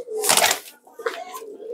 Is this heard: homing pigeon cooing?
yes